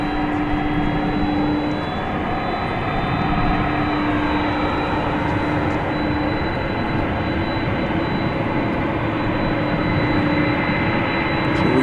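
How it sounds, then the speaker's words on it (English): A 27-year-old Boeing 767-300ER revs its jet engines at DFW Airport, a loud, steady roar with a droning whine that holds constant throughout, with no voices. "So we can hear that revving up."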